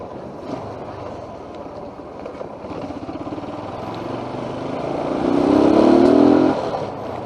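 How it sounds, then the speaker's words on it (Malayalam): A TVS Apache RTR 180 BS4 motorcycle idles with a throaty, pulsing engine note and intake noise from its air filter, then is revved up firmly for about a second before dropping back to idle, close by and with no talking. "നമുക്ക് ആ എയർ ഫിൽറ്ററിൻ്റെ സൗണ്ട്, ആ ഇൻടേക്ക് നോയ്സ് ശരിക്കും നമ്മൾ കൈ കൊടുക്കുമ്പോൾ കേൾക്കാവുന്നതാണ്."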